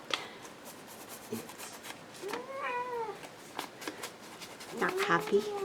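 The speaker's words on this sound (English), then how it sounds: "Cranky little cat." A cranky, unhappy cat gives a couple of drawn-out, wavering meows close by, with a person talking softly and rustling around it.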